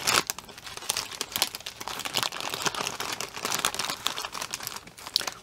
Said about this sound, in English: It's only crinkling from the other bag.